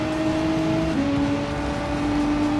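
An Audi R8 race car's engine drones steadily in Gran Turismo 7, a sustained tonal whine that drops in pitch as a gear shifts, holding loud and close.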